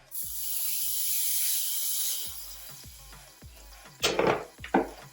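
Butter goes into a hot, slightly smoky pot, giving a steady sizzle and hiss with a series of soft knocks, then a couple of louder spattering bursts near the end, close by.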